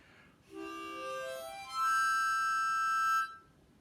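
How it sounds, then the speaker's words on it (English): A blue harmonica plays a rising run of reedy notes and then holds a bright, sustained chord, clear and close with no voices around it. "yeah, it's a harmonica"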